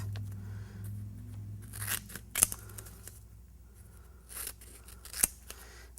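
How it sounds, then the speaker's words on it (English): Scissors snip through paper coupons, cutting straight across the bottom of a stack, with a few sharp crisp cuts and soft paper rustling between them, close and fairly quiet. "Then I'm going to cut straight across the bottom."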